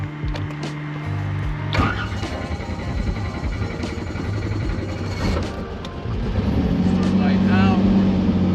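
A Robinson R44 helicopter engine whines and rumbles as it spins up, growing louder and higher in pitch, with a voice briefly speaking over it.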